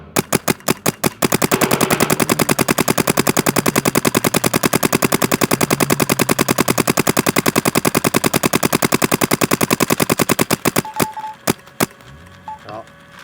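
A Luxe Idol paintball marker fires a long rapid string of sharp, evenly spaced shots fed from a loader, loud and close, trailing off into a few scattered pops near the end.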